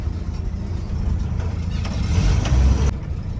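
A 1973 Toyota Land Cruiser FJ40 engine running while the truck reverses, a close, loud low rumble that swells slightly before easing off, with no talk over it.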